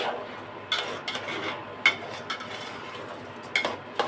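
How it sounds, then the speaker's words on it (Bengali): Soaked rice and green chillies are stirred in a frying pan, giving scattered light clinks and scrapes of a utensil against the pan over a quiet background. "এখন এটা আমি ভাজা ভাজা করে নিব।"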